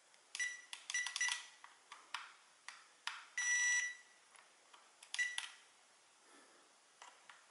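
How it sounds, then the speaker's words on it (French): A drone remote controller for an SG106 double-camera drone emits a series of short, high electronic beeps with irregular spacing and one longer tone, close and fairly faint against a quiet background. "Un bip me signifie que je suis connecté théoriquement."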